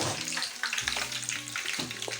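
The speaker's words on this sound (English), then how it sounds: "I'm about to fry the snail." Snail frying in oil with onion gives a steady, moderate sizzle with soft bubbling and faint stirring movement throughout, no talking.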